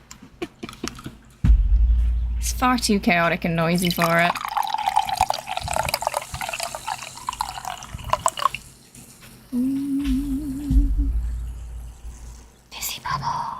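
A Red Bull can is cracked open and fizzes in bursts between bouts of close talking, with running, dripping liquid sounds and a brief hum near the end.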